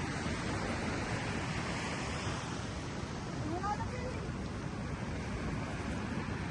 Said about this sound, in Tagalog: Medyo nag-iiba na yung alon niya kasi nga doon sa parating na bagyo dito sa ating lugar sa Pilipinas.